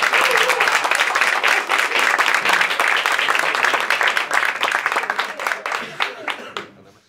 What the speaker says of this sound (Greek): δώστε μου ένα χειροκρότημα οι άντρες από την παράσταση